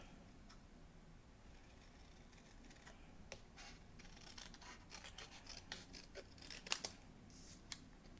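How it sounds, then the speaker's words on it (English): Scissors trim card stock for a handmade stamped card, close cuts snipping around a shape. The snips are quiet at first and grow crisper and more frequent toward the end, with a sharp cut near the close. "Trim it pretty close. You could fussy cut around it."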